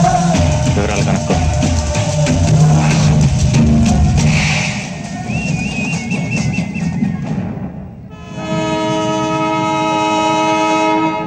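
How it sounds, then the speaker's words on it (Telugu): A train pulls out of a station with a loud, rumbling rattle of wagons. A sustained horn blast rings out over the rolling noise toward the end. "అయ్యో, ట్రైన్ కదిలిపోతుంది."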